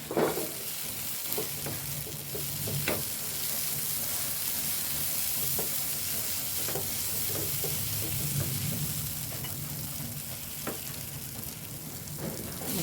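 Egg stirred and frying in masala in a pan, a continuous dense sizzle with repeated soft spatula scrapes and occasional clicks scattered throughout, steady and close.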